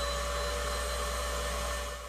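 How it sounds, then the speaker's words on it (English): A household vacuum cleaner running steadily with a constant motor whine and airflow hiss, fitted with a dust collector adapter for allergen sampling, close and continuous with a slight drop near the end. "turn the vacuum on."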